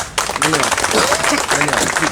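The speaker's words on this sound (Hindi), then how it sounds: "एक बार तालियां हो जाए।" Crowd clapping at a Hindi gathering honouring a traveller who visited the homes of Pulwama and Kargil martyrs, a dense, steady wash of hands with voices and cheering mixed in throughout.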